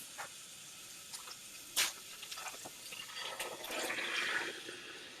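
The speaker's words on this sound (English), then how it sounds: "I'm going to pour in the sauce" Homemade Italian sauce pours and splashes into a pot, a steady watery rush building toward the end, with a few soft clinks and taps earlier.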